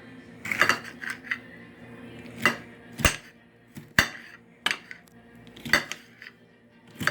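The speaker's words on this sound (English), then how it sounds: "I'm just going to cut them like this" Sharp knife strokes chopping red peppers on a cutting board, several irregular chops and taps with brief pauses between, close and crisp.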